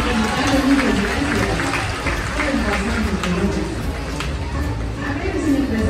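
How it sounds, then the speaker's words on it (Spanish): An audience at a sea lion and bird show in the Mazatlán aquarium gives a sustained round of applause, a broad crowd clatter mixed with cheering and chatter, steady throughout and moderately loud. "nos vamos a dar un fuerte aplauso a los valientes"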